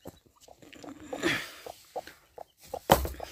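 Desi hen clucking near the mic in short, repeated low calls, with baby chicks among them, ending in a sharp louder squawk; no talking.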